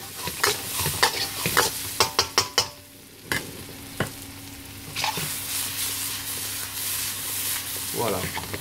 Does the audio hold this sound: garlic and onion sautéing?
yes